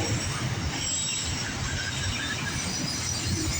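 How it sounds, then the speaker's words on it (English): A loaded CSX autorack freight train rolls past nearby, a steady low rumble with grinding wheel noise and a faint metallic squeal throughout. "we have a loaded autorack train right here"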